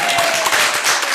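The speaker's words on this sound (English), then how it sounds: "Let's give him a round of applause." A short burst of audience applause at a gathering, loud and continuous clapping from a crowd with no voices over it.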